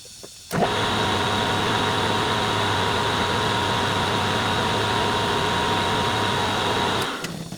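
A metal lathe runs steadily while chamfering the entrance on the end of a freshly tapped machined foot reversed in the chuck, a loud continuous motor hum and cutting whir starting abruptly and holding for about six and a half seconds before winding down.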